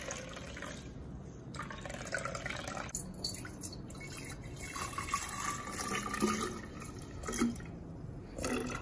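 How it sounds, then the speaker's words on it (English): Homemade milk squeezed through a mesh bag, dripping and trickling into a bowl in a kitchen, an uneven run of wet drips and splashes close up, with a brief spoken remark near the end. "So just pour it in there, and then we're just gonna squeeze it out"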